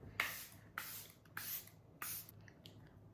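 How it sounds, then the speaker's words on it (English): Four quick, hissing sprays of setting spray from a pump bottle onto a face, evenly spaced and close, each a short burst of fine mist with quiet pauses between. "Now we're gonna spray the face."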